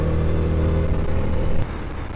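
A car drives along a road toward a park, its engine humming steadily up close with a low droning tone that eases off slightly near the end; no voices.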